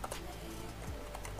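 Light, quick keystrokes on a computer keyboard, a soft irregular patter of taps at close range with faint room noise between them.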